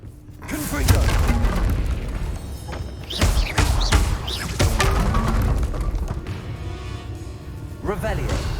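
Booming fire-spell blasts from combat in Hogwarts Legacy on PS5, with heavy thuds and bursts recurring over several seconds, loud and close, mixed with game effects and a voice talking.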